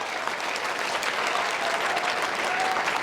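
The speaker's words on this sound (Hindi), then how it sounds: "अपने सभी अध्यापकों के लिए एक बार जोरदार तालियां बजा दीजिए" Students break into steady, dense applause for their teachers, a continuous wash of clapping held at an even level throughout with no talking over it.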